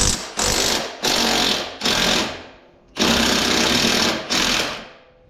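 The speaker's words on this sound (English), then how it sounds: "14mm socket and a wrench. Take that rascal out." Pneumatic or power wrench bursts on the top spring bolt of a Honda 520 Rubicon ATV, 14mm socket: several loud whirring runs of about a second each, separated by short pauses, no talk.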